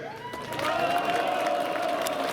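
A crowd at a Polish presidential campaign rally in Sanok for Karol Nawrocki breaks into steady applause and cheering that swells and holds, a broad wash of clapping and voices at moderate distance.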